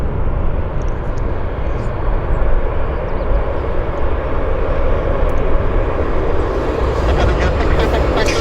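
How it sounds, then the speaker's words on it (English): A WestJet 706 airliner bound for Toronto begins its takeoff roll at Vancouver Airport, a loud, continuous jet engine roar that holds steady, with a brief whine rising near the end. "this is the Toronto service, Westjet 706. Waiting for his departure to roll"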